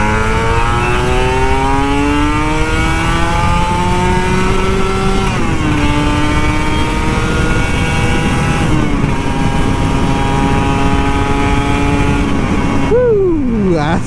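A Kawasaki Ninja RR 150 motorcycle engine revs hard and close up, its pitch climbing in sustained pulls, dropping and rising again across several throttle blips before falling away sharply at the end.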